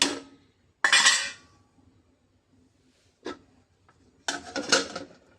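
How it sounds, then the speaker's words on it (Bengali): A lid goes onto a cooking pot of khichuri with vegetables and water, heard as a few separate metallic clanks and scrapes spread over several seconds, close by, with quiet gaps between them. "ঢাকনা দিয়ে ঢেকে দিলাম।"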